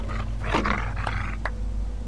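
A dog growls in the video game The Walking Dead 2, a low rumbling snarl with a few rough bursts, close and continuous for about two seconds.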